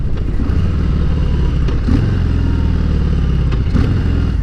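A 2018 Harley-Davidson Heritage Classic motorcycle engine runs loud and close through the gears, with a deep continuous rumble and a couple of brief shifts in pitch, no talk over it.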